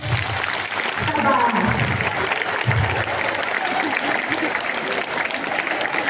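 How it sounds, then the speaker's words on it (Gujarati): An audience of girls at a Tulsi Pujan and Tejashvini Bhav Abhiyaan event at a girls' hostel claps for themselves, a dense, steady roar of applause lasting throughout with a few voices early on. "એના માટે બધા પોતપોતાના માટે તાળીઓ વગાડી દઈએ બધું"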